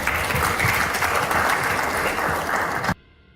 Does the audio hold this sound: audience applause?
yes